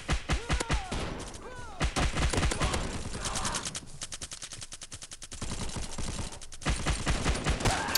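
Rapid bursts of a Lewis gun firing in the shooter game Bullet Force, with loud, close automatic volleys broken by short pauses and a few heavier thumps.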